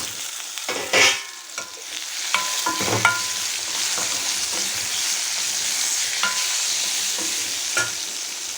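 Sliced okra drops into a hot pan for a Kerala-style curd curry and sizzles steadily while a spoon scrapes and stirs it, with a few sharp clanks against the pan over a constant frying hiss.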